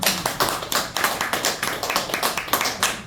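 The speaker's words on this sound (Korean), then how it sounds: "그러면 그분들 위해 박수 한번 치겠습니다" An audience claps together in a hall, steady rhythmic hand claps repeating loudly for several seconds with no talking.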